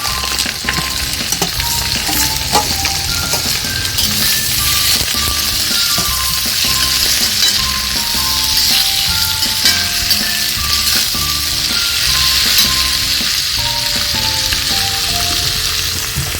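Four sliced onions and curry leaves sizzle in hot oil, a steady close crackle and hiss running throughout with light stirring, backed by soft melodic music.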